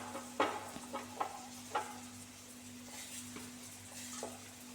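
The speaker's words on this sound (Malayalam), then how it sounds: "സവാള ഇരിഞ്ഞത് എടുത്തേക്ക് ചേർത്ത് കൊടുക്കുന്നുണ്ട് എന്നതും കൂടി മൂപ്പിച്ചെടുക്കുന്നുണ്ട്" Sliced onion sautéing in oil in a pan, a steady low sizzle with a few light stirring clicks and scrapes near the start, no talking.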